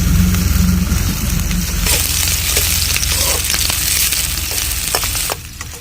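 Onion, garlic and green chili sizzle and fry steadily in a hot pan for a vegetable curry of raw papaya, a dense continuous crackle with occasional stirring scrapes, fairly loud and close with no talking.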